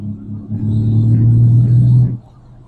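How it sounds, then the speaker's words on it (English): A 1973 Triumph GT6's six-cylinder engine surges under acceleration, a loud, steady low growl that builds for about two seconds, then drops back to a quieter idle-like rumble. "if I put my foot down, that 6-cylinder soundtrack is raring to go"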